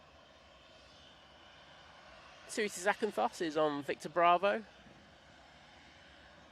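A Jet2 plane's engines hold a steady, broad roar as it departs Manchester Airport, with a short stretch of radio-style talk over the noise midway through.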